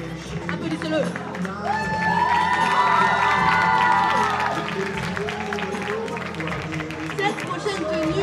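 Audience at an eco fashion show of outfits made from newspaper, cardboard and cans cheers and applauds steadily, a dense crowd roar with shouts and clapping holding loud for the whole stretch.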